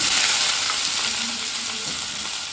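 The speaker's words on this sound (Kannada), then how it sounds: "ಸಣ್ಣದಾಗಿ ಹಚ್ಚಿರೋ ಈರುಳ್ಳಿ ಹಾಕ್ಕೊಬಿಡೋಣ" Chopped onion, garlic, green chilli and cumin frying in hot oil, giving a loud, dense, continuous sizzle heard up close that eases off slightly, with a faint stir near the end.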